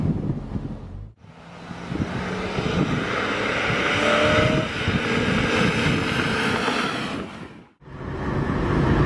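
A BMW M3 convertible cruising at highway speed with its top down, giving a loud, steady roar of wind buffeting and road noise close up, with brief drops near the start and end.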